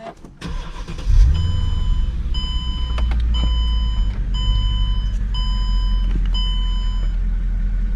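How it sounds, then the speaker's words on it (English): A 2007 Mercedes-Benz E550 4MATIC engine cranks and starts, then settles into a steady low idle, with repeated high electronic warning beeps chiming in a regular pattern over it. "Now let's get an idea of what this car sounds like."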